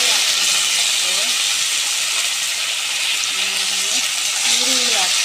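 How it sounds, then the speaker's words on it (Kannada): Mustard seeds and urad dal sizzle in hot oil for chitranna, a steady loud hiss and crackle filling the whole clip with faint tonal sounds underneath. "ಸ್ವಲ್ಪ ಸಾಸಿವೆ, ಉದ್ದಿನಬೇಳೆ ಹಾಕಿಟ್ಟಿದ್ದೀನಿ"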